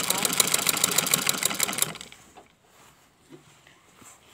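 A sewing machine stitching fabric pieces of a top together runs in a close, rapid, steady whir for about two seconds, then stops, leaving faint handling noise and quiet talk.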